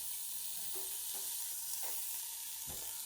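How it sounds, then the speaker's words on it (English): Steady sizzling hiss of hamburgers frying in a preheated Ninja Foodi air fryer basket, with a few soft clinks and thuds as patties are placed in, no talking. "put them in the heated basket. You should be able to hear it sizzle."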